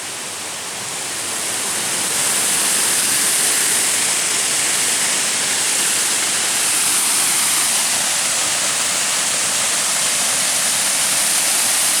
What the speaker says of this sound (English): Well, I'd say we found the waterfall.